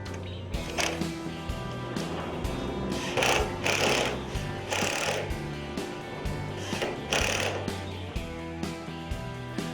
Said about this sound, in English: begin screwing in the corner lock at both jambs